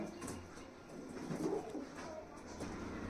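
Pigeons coo softly in a short, quiet stretch, with low, throaty murmurs and faint rustling nearby.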